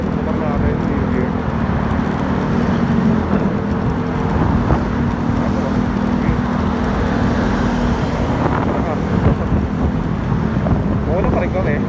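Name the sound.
Yamaha Mio Gear 125 scooter engine riding on the road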